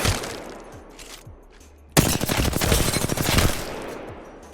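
Rapid R-301 rifle bursts from Apex Legends fire at training dummies on the firing range, a dense rattling stream starting abruptly after a quiet lull, loud and close with trailing echoes.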